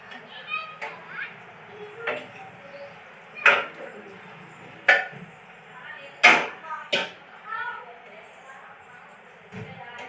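Kitchen tidying with dishes and utensils clinking in a series of sharp, irregular knocks and clatters, some near and loud, others softer, over a low background hum with faint voices.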